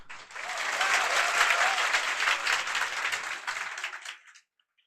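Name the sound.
audience clapping on request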